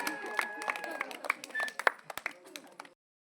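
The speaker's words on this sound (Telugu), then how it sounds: "అందరూ గట్టిగా క్లాప్స్ కొట్టి ఎంకరేజ్ చేయాలి." An audience at a Sankranti celebration stage event in Koyavaripalem claps in scattered, uneven bursts while a voice speaks over the applause.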